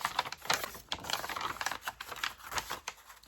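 Paper junk journal pages are folded and handled up close, giving rapid crisp creases, rustles and taps in an uneven rhythm.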